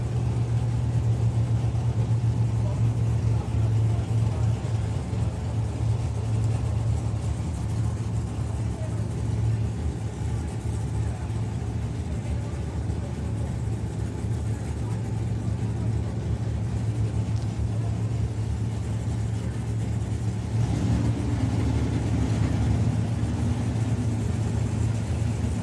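Oldsmobile Cutlass drag car idling as it rolls up to the starting line at a drag racing event; a steady loud mid-pitched engine drone that swells slightly near the end, with a commentator talking over it.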